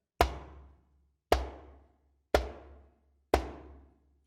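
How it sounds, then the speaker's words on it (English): Four sharp, dry muted slaps on a djembe, evenly spaced about a second apart, each quickly damped with a short decay, played alone. "We can do a muted slap"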